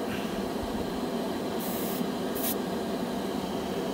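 An airbrush spraying Vallejo Gory Red paint onto bare plastic, giving a continuous close airy hiss at lowered air pressure, with a couple of brief sharper bursts partway through.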